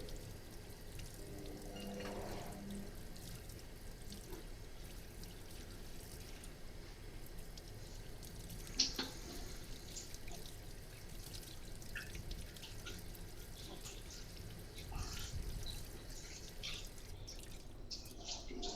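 Cold tap water runs steadily in a kitchen sink while fish are rinsed, a faint continuous trickle with occasional small splashes and clinks.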